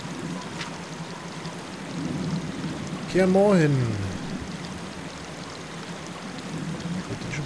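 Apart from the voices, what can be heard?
babbling brook in The Witcher video game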